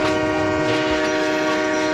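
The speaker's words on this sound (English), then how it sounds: "Her driver applied her brakes as she squeaked and slipped on the rails" A sustained, loud metallic screech of tram wheels sliding on rails under braking, steady and harmonic throughout, with a low rumble beneath.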